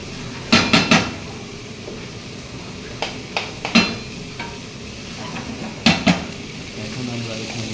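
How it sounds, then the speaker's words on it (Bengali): Onion masala sauce cooking in a pan is stirred with a utensil that scrapes and taps the pan in short clusters of strokes over a steady low sizzle, close up and without speech. "1 মিনিটের মতো আমরা এটাকে স্টেয়ার করব"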